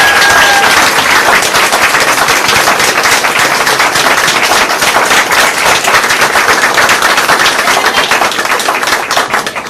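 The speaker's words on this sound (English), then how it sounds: "a loud and amazing round of applause." Loud, dense applause at a council meeting, a sustained rapid clatter of many hands clapping that holds steady throughout and only tapers slightly at the very end.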